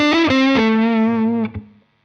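Electric guitar played through a Line 6 HX Stomp with the Diana Drive overdrive, a Zendrive model, stacked with a second drive for a solo tone: a few distorted sustained notes ring loud and alone, fading after about a second and a half.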